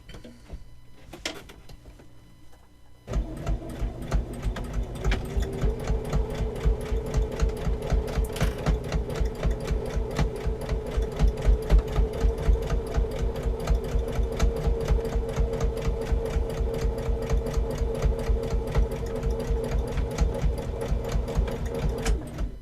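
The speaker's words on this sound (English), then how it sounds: "I'm going to sew right along that seam, making sure that everything is matched up perfectly." After a quiet start, a sewing machine stitches a fabric seam in a long, steady run of rapid, evenly spaced needle thumps over a continuous motor hum, close and fairly loud.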